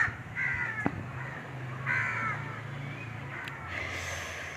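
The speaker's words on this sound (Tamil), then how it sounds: "ஸோ இந்த காக்கா வேறு" A crow caws several times in short bursts, fairly close and clear, with no talking over it.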